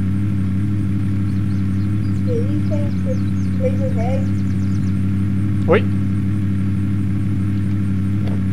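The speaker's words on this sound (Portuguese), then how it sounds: "O som do carro tá muito alto." A steady, droning car engine in the game Unturned hums continuously beneath faint game sounds and brief chatter, loud and constant throughout.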